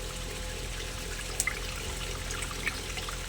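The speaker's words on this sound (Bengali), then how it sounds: "এবারে আমি এই টক জলটা কিন্তু পুরোটাই দিয়ে দিচ্ছি।" Sour karamcha water poured into a fish curry pan, a quiet continuous watery trickle with a couple of faint splashes, close by.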